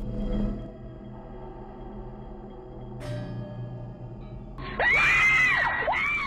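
Two people screaming in a recorded clip, shrill wavering cries that rise suddenly near the end after a stretch of low, muffled background sound, fairly loud and close.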